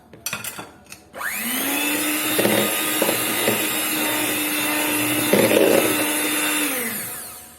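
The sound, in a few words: beating egg yolks into chocolate cake batter with a mixer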